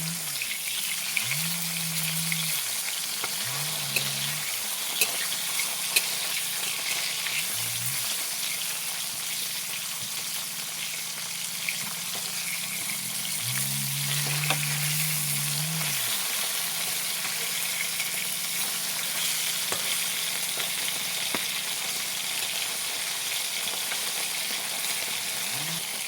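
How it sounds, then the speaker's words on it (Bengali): Live pond fish frying in hot oil, a continuous soft crackling sizzle close by for the whole stretch, with several low droning hums rising and fading in the background. "তেলটা দিয়ে দিয়েছি, গরম হয়ে গেছে। দিয়ে দেবো মাছ।"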